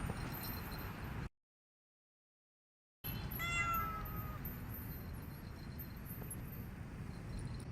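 A cat meows several times in a TV drama scene, with clear nearby cries heard after a brief stretch of silence, over a low background hiss.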